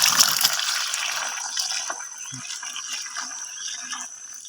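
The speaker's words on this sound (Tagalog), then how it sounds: "Hanggang sa pupunuin na to ng tubig." Water gushes and trickles steadily into a hole in farmland, a continuous watery rush with faint splashing, heard up close and alone.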